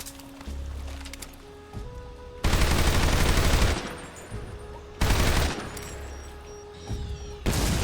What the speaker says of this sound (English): I just have to shoot with an actual AK